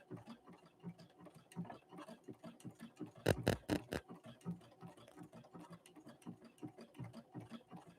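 A Brother Innovis 1500D sewing and embroidery machine runs nearby with a quiet, rapid ticking stitch rhythm and a brief louder mechanical burst partway through, soft and steady throughout.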